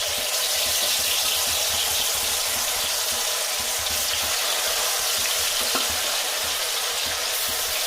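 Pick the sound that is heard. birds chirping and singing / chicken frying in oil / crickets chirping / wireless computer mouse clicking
chicken frying in oil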